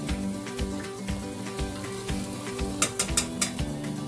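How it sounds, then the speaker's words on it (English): Vegetables sautéing in a lidded pan for a vegetable green Thai curry, a steady close sizzle with soft crackles and a few sharper pops near the end, no talking. "Saute these veggies and cover them with a lid."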